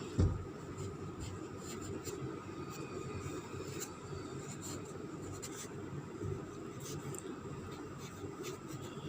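Pen or pencil writing on paper during a Sindhi alphabet lesson for a first-grade class, a steady soft scratching that continues throughout with no speech.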